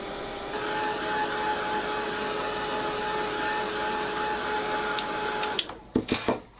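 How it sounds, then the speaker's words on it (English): A heat gun blows a loud, steady stream of hot air onto wet craft paint for about five seconds, then cuts off abruptly, leaving a few quiet handling knocks. "give it a blast with the heat gun"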